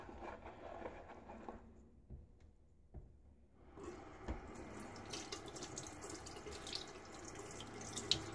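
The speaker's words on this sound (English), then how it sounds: "Rinse off the handle again." A faucet runs at a bathroom sink while a razor handle is rinsed under it, with a quieter gap partway and then a steady close stream with light clinks and splashes; no voices.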